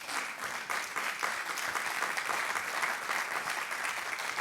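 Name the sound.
audience applause at a congress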